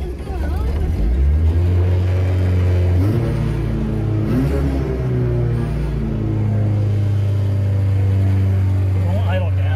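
A Ford Pinto wagon with a swapped 2.3 EFI engine runs rough and refuses to idle down, holding a steady, loud low drone with some uneven lurches, while people talk over it.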